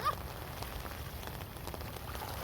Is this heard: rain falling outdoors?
yes